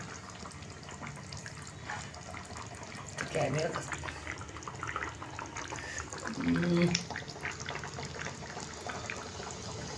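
Warm water poured into a potato and drumstick curry, a gentle liquid trickle and splash audible beneath someone talking throughout.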